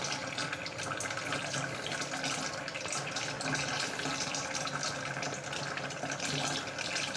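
Sparge water running over a grain mash for rye whiskey, collecting about six gallons in a pot: a steady, even trickling and splashing stream of moderate loudness with no talking.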